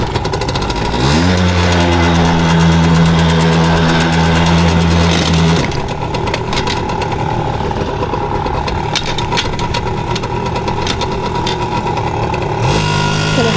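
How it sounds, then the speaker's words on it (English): A Yamaha PW80 dirt bike engine runs loud and close throughout, revving with rising pitch early on, then settling into a steady, rough two-stroke drone that keeps going to the end. "Let's get our motorcycle ready"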